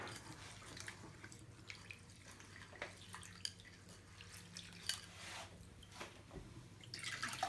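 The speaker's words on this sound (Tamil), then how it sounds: "நல்லா அப்படி கை விட்டு கழுவிக்கோங்க." Soaked rice and urad dal being washed by hand in water for idli and dosa batter, giving faint, irregular drips and splashes close by with no talk.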